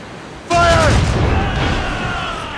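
Ship cannons fire in an Assassin's Creed Rogue naval battle: one loud, close boom with a sharp onset, then a long rumbling tail as shouted orders and crew voices carry over the top.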